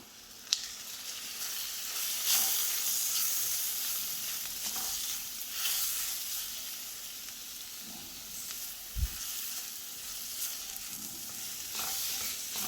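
Turmeric, chili and coriander powders frying in oil for a cluster bean and potato curry give a close, continuous sizzle, broken by occasional spoon scrapes and knocks against the pan.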